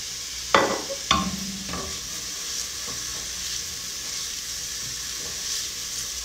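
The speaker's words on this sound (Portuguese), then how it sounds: "agora eu dou uma mexidinha, porque caramelizar um pouquinho a cebola é gostoso" Onion frying in olive oil gets stirred in a pan, two sharp utensil scrapes near the start followed by a steady close sizzle and hiss that carries on alone.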